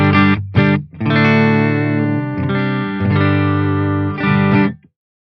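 An electric guitar runs through a Headrush effects unit with the upper mids boosted, playing loud sustained chords in several phrases with short breaks and no talking.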